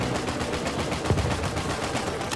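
Rapid gunfire from Uncharted 4 multiplayer, a dense continuous burst of automatic shots filling the whole moment at steady loudness, with no talk over it.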